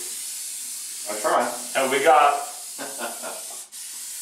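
A nearly empty aerosol paint can sprays with a steady, soft hiss that runs throughout, while someone talks briefly over it.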